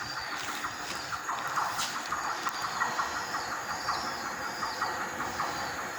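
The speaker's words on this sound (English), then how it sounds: "There's a train coming to South Shields via Newcastle. We'll see that. Here it comes." A train bound for South Shields via Newcastle pulls into platform 2 at Four Lane Ends. It gives a faint, distant rumble with a steady hiss and light metallic squeals, and no one speaks.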